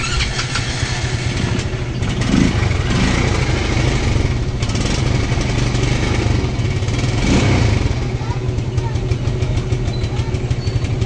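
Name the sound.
motorcycle engine sputtering and misfiring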